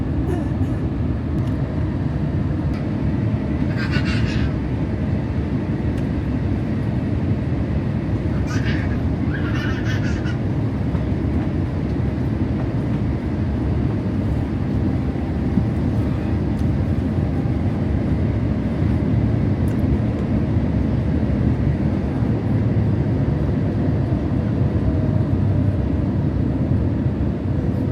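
A Singapore Airlines Airbus A350 comes in to land in Singapore on a short-haul flight from Jakarta, heard from inside the cabin as a steady, loud engine and air roar, with a child's brief high-pitched voice breaking through early on.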